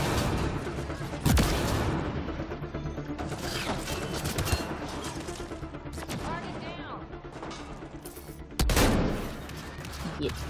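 Gunfire in the sci-fi shooter Mass Effect: Andromeda, bursts of shots with a couple of loud sharp blasts standing out over a dense, busy mix of game effects and talk.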